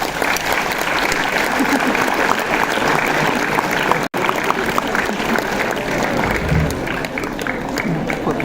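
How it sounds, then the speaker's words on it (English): Sustained, loud applause from a conference audience fills the whole stretch in a dense, even wash of clapping, broken only by a split-second dropout midway. "Big round of applause"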